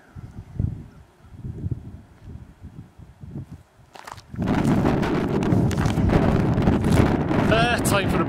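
Breezy wind buffets a microphone on a long-distance countryside walk, starting as soft intermittent gusts and turning into a loud, constant roaring rumble halfway through. Faint voice-like sounds occur early on.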